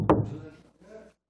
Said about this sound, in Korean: 제가 노크를.